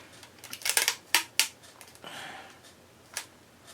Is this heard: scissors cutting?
yes